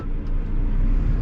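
A car comes fast along a road leaving Marseille, heard from inside a truck as a steady, heavy low rumble that swells slightly as it nears, with no voices.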